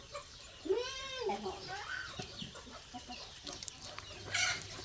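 Chickens cluck and call at moderate distance, a few short bursts over steady outdoor background noise.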